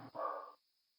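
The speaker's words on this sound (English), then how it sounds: "the barking's fine" A single short dog bark, faint and distant, cut off quickly and followed by quiet.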